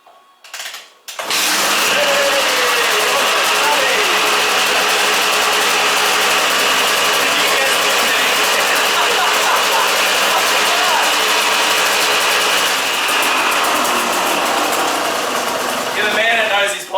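A KTM 200 motorcycle engine runs loud and steady for most of the stretch after a brief quiet start, with a continuous high buzzing tone, while faint voices come through underneath.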